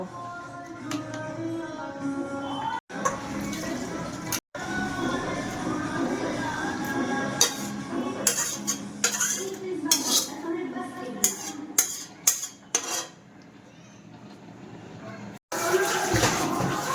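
Cooked meat being tipped from a cooking pot into a separate pot, with repeated metallic clinks and scrapes of spoon on metal, a steady kitchen background, and brief pauses along the way.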